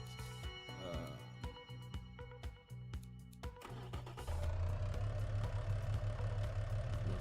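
V6 car engine in the racing-design game Automation, idling with a steady low drone that rises in level partway through, accompanied by clicking interface sounds early on.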